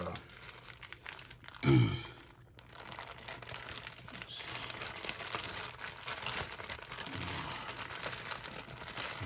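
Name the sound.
crumpling paper towels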